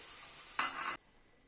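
Potatoes frying in hot oil in a pan give a steady hiss, then a sharp, louder burst of sizzling comes as they are stirred and lifted out, before it drops back to a faint simmer.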